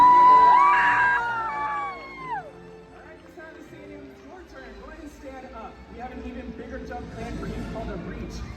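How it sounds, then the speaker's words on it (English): A SeaWorld stadium audience cheers and screams for a killer whale, loud at first and then settling into a lower, ongoing crowd murmur with whoops and shouts, while an amplified voice talks over it. "when you see it, give her a great big cheer"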